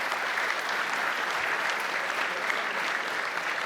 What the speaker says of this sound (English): How about a huge round of applause for all of them?